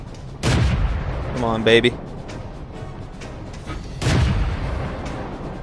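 Two heavy booms from a tank gun, the first near the start and the second near the end, ring out in a tank-battle video game while someone talks over the action.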